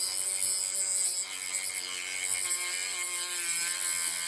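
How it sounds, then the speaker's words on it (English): A Dremel with a cutting blade grinds through a bolt on a Honda CL350 motorcycle frame, a steady high-pitched whine that holds for several seconds without pause. "So I've got my cutting blade on my Dremel, and let's see if we can cut this off."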